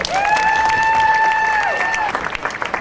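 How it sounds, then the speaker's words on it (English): Crowd at a July 4th Frontier Days parade in Willits applauding and cheering, dense outdoor clapping mixed with a sustained whistle-like tone and a voice over the crowd. "Please welcome Jamie with applause to kick off this year's parade."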